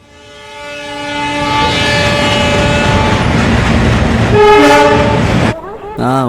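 A train passes close by with a loud, sustained horn blast, its tonal wail riding over rumbling wheels and carriages, swelling briefly near the end before cutting off; no voices.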